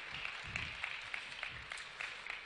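An audience at a Seoul civic ideas presentation gives scattered applause for a youth team, soft uneven clapping from a modest group, fairly distant and faint.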